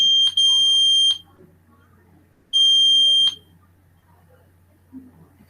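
Two loud, high-pitched laser security alarm buzzer bursts, each lasting about a second, separated by a quiet pause, with faint background noise afterward.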